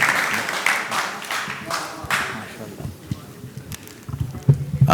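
Audience applause at a London poetry mushaira welcoming a poet from Germany starts fairly loud and close, then thins and fades over several seconds, leaving scattered claps and room noise.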